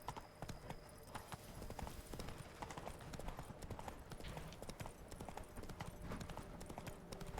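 Rapid, steady clip-clop of horse hooves at a trot in the video game The Witcher 3: Blood and Wine, at night, continuous and fairly close, with a faint background bed of ambient sound.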